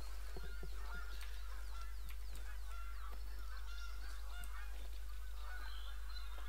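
A flock of geese keeps up a chorus of overlapping honks over fields in the hunting game The Hunter: Call of the Wild. The calls are mostly moderate and distant, with a constant low drone underneath.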